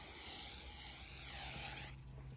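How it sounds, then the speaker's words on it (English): A steady hiss of aerosol polish sprayed onto a table, continuous and fairly close, tapering off near the end with a low hum underneath. "all I'm doing is spraying this table"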